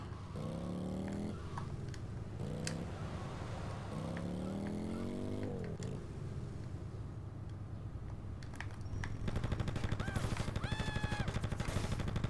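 Motorcycle riding through gunfire in GTA Vice City Stories: a steady engine drone runs throughout, with repeated revving surges early on, and sharp shots crack over it, turning into rapid bursts near the end.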